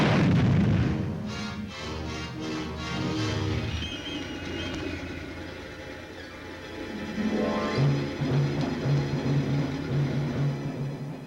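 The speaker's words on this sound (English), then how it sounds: "Saddle action, traverse right. Steady, on. 800, tank, fire!" Tank main gun firing during a Canadian Armoured Corps exercise in a wartime newsreel, a heavy booming blast up front followed by rumbling reverberation and continuing engine and battlefield noise.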